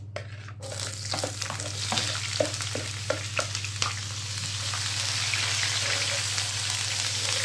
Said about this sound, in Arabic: ده زيت زيتون عندي وممكن ما تحطيش زيت زيتون خالص يعني وده توم وفلفل